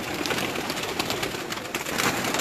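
Pigeons in a breeding loft with hens present, a dense chorus of soft cooing and bird calls running steadily throughout at close range, no talk.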